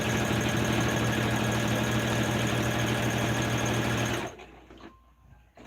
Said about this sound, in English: Let's do a little back stitch.